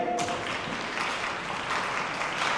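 Festival audience at a soundscape workshop claps together, a dense, even spread of many hands close by, sustained for a couple of seconds without talk.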